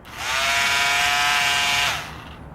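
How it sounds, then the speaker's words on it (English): A multi-tool plugged into a router table's switched outlet starts up with a rising whine, holds a steady high-pitched buzz for almost two seconds, then shuts off and winds down, heard close and alone. "I hooked up a multi-tool to the plug, like the router would be plugged in."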